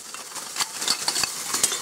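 Old metal spoons, some apparently silver, from a long-buried hoard clink together in light, irregular taps and scrapes, close and fairly quiet, with no voices.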